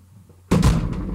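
A fan drops onto the floor in front of a doorway, landing with a sudden loud crash after a quiet start, then clattering and rattling briefly as it settles nearby.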